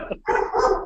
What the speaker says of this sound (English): so that's my dog Jack's barking in the background